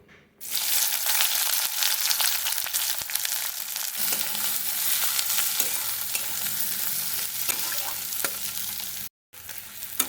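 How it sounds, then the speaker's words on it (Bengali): Four onions frying in plenty of oil in a wok-style pan, a steady broadband sizzle that starts abruptly and holds close and loud, with a brief silent gap near the end and occasional stirring clicks. "এটা চারটে পেঁয়াজের দিয়ে দিলাম কড়াইয়ের মধ্যে তেল একটু বেশি করে তেল দেবো"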